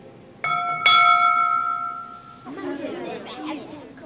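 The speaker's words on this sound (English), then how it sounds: "When Derek Butler rings the bell for evensong, he's carrying on a 900-year-old tradition." Two strikes of a large bell at Ely Cathedral rung for evensong, each leaving a long ringing tone that fades out after about two seconds, followed by murmuring voices and room ambience.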